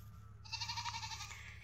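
A single goat bleats once, a wavering nasal cry lasting about a second, faint against a steady low background hum with no talking.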